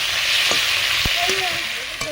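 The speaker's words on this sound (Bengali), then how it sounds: "লাল লাল করে ভেজে নিচ্ছি" Fish heads fry in oil in a pan for an ash gourd dalna, giving a loud continuous sizzle close up, broken by a few sharp spatula taps and scrapes.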